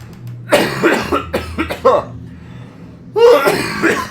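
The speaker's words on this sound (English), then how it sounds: "Let me start coughing for some reason" Several harsh coughs in quick bursts, a short pause, then another coughing fit, close and loud.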